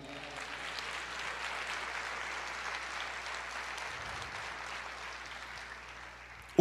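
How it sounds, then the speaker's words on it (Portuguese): Congregation applause during a church service, a steady wash of clapping held at an even level for several seconds before a sharp thump at the very end. "Você pode aplaudir o Senhor?"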